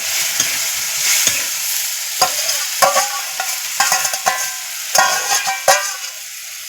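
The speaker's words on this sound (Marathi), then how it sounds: "इकडं आपण जी ग्रेव्ही बनवली टोमॅटो लसूण हे सगळा एकत्र वाटलाय पाठीवर त्याच्यामध्ये हा मसाला मिक्स करायचा" Masala being stirred into a ground tomato and garlic gravy in an oily pan for shev bhaji, a soft sizzle broken by a series of sharp spoon scrapes and clinks at irregular intervals, no talking.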